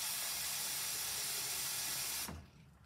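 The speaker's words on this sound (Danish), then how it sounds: "Og vi starter lige med at koge noget vand." Water heating in a kettle for oatmeal gives a steady, loud hiss of steam and bubbling that cuts off abruptly near the end, with only quiet room sound after.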